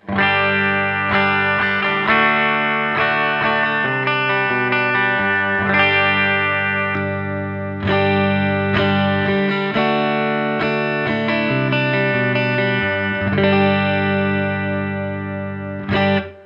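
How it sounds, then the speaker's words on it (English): Clean electric guitar chords and single notes ring out with a spacious reverb tail, played steadily and fairly loud with no voices. "So the clean amp sounds like this."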